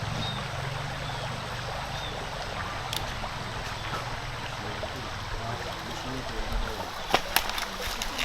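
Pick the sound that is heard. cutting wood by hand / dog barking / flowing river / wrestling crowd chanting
flowing river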